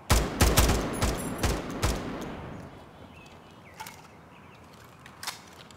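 Gunfire in the video game Escape From Tarkov, a rapid string of loud close shots over the first two seconds, then quieter scattered distant pops and ambient noise trailing off.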